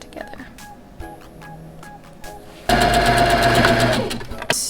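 A sewing machine stitches slippery lining fabric for a pumpkin costume. Brief start-stop bursts of motor whir at first, then a loud, steady run of stitching that ends with a short pause and restart, with no talking.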